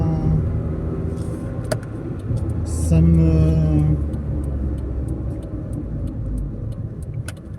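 Peugeot 106 rolling slowly at about 30 km/h with worn-out brake pads, a steady low engine and road rumble filling the cabin, with a voice speaking briefly over it.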